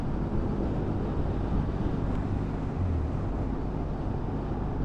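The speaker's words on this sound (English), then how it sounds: "This? Gosh, what a sweet little engine." A Triumph Bonneville motorcycle engine runs at a steady pace while being ridden, a continuous low rumble with heavy wind rush over the microphone and no speech.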